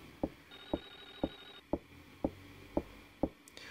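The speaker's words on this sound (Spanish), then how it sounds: "Por Dios, que el teléfono sigue sonando" A telephone rings over and over in the SNES horror game Clock Tower, a steady train of sharp evenly spaced bell strikes, roughly two per second, faint and alone with a thin tone running beneath.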